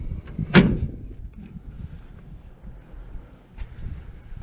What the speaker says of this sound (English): It does need new door hinges though, as you can see right there when I kind of see how it falls down.